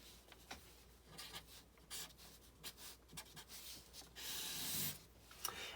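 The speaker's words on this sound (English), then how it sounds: "And I'll draw a person." A pen drawing a person on paper, rubbing and scratching in short irregular strokes with one longer sustained scrawl near the end, close and faint.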